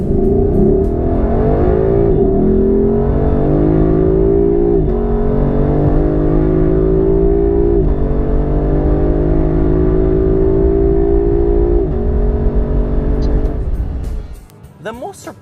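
Lexus LC500 V8 engine revving hard and loud through repeated rising gear pulls, each climb cut by a brief shift, holding steady for about fourteen seconds before dropping away abruptly near the end.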